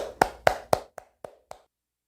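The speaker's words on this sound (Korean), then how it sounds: "큰 박수로 맞이해 주세요." Six distinct hand claps at a seniors' college gathering welcoming a singer, evenly spaced and close, the first three loud and the last three softer, then silence.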